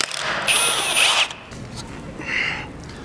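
A power tool, likely an impact gun, removes car wheel nuts for a stuck brake caliper inspection, giving two short, loud whirring bursts close by.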